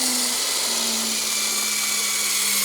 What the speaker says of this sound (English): Now it's going to tighten to 600 Newton meters.